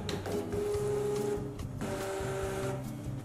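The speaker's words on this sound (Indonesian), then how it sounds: "Untuk kalibrasi printer, tekan tombol di depan dan tahan sampai lampu nyala 2 kali." A Zebra GC420t label printer runs through calibration and feeds labels, producing a steady close mechanical whir with a tonal motor hum for about three seconds and a brief dip partway through. No voices.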